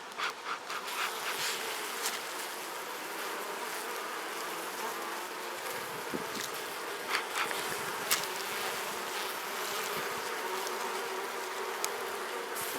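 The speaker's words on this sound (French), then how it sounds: "les abeilles s'agglutinent autour de la cétoine" Dense buzzing of honeybees swarming around a rose chafer beetle, a close continuous drone of many wings with individual insects flitting nearer and away, no voices.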